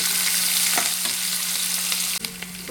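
Curry leaves and chopped onions sizzle in hot oil in a pan for potato pittu. A loud, steady frying hiss fills the clip, with a few stirring scrapes and a short dip near the end. No one speaks.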